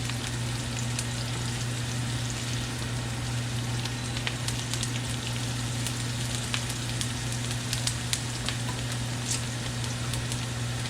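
Garlic and onion sautéing in hot oil for kare-kare sauce give an even, continuous sizzle with sparse sharp pops over a low steady hum, close and constant.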